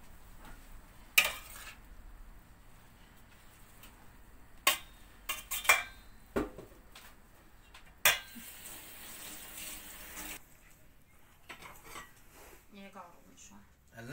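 Filling being sautéed in a pan, with a steady low sizzle under sharp clinks and scrapes of a utensil against the pan, several distinct knocks spread across the stretch.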